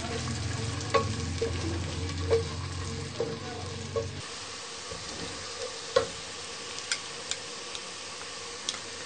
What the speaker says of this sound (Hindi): प्याज शामिल करेंगे,